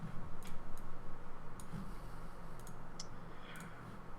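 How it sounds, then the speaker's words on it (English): Sparse, light keyboard typing during an online round-table discussion, a handful of faint, irregular clicks over a steady low hum, with no voices in this stretch. "I can hear you over the typing."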